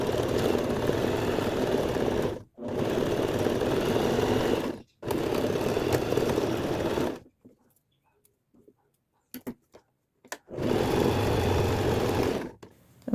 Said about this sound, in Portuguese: eu já vou costurar as minhas orelhinhas